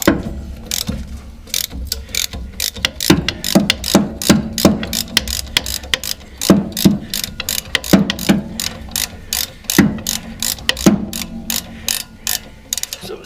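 Socket ratchet clicking in quick bursts while undoing 9/16 suspension bracket bolts on a Lincoln or Ford front end, close and sharp with short pauses between runs.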